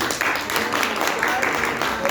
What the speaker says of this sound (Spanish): por favor le damos un fuerte aplauso